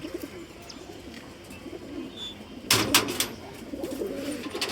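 Low, soft coos of male pigeons in a rooftop cage murmur throughout, close by, with a burst of rustling or flapping partway through; no voices.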